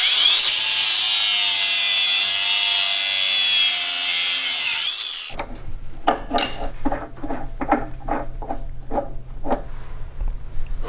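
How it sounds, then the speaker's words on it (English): A power tool cuts through a weld on a lawn mower engine in a workshop. A loud steady whine runs for about five seconds, then gives way to a series of rhythmic metallic rattles and clanks, close up with no voices. "I'm gonna have to cut The weld."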